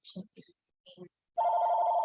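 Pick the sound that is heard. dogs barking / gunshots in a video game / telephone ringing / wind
telephone ringing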